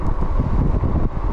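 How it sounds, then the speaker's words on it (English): Strong wind buffets the microphone while riding a Wallke H9 AWD dual-motor e-bike, a steady loud roar of rushing air with no speech. "it's really windy"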